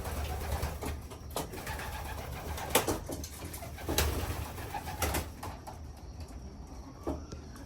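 Pigeons coo softly inside a clean loft, low murmuring calls repeating over steady background rustle, with occasional wing flaps and sharper knocks from the birds moving about.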